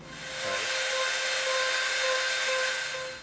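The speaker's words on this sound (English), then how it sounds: "we're going to use our Dremel and we're going to Dremel a flat spot" A Dremel rotary tool grinds a flat spot into the edge of an EVA foam piece, a loud, steady, high-pitched motor whine that spins up, holds for about three seconds and then tapers off, close by with no talking.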